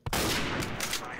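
Gunfire in Garry's Mod, a single sharp loud blast with a dense rolling burst of shots continuing right after, close and harsh.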